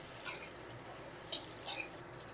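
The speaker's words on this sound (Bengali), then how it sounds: "এইভাবে আলুগুলো ভালো করে লাল লাল করে ভেজে নেব।" Diced potato cubes frying in oil with salt and turmeric for a cauliflower curry, giving a steady bubbling sizzle with a few brief crackles over a constant wet hiss.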